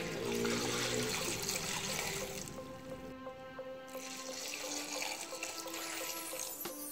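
Water is poured into a soup pot in a home kitchen, a steady rushing flow that rises in pitch as the pot fills, pauses briefly, then resumes; no voices are heard over it.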